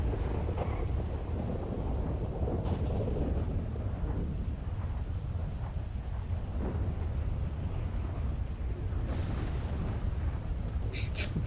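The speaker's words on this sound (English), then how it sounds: "storms are very, very loud in GTA for some reason." A thunderstorm in the GTA video game rumbles loudly and continuously with deep thunder rolls and steady rain hiss, and a few brief cracks near the end.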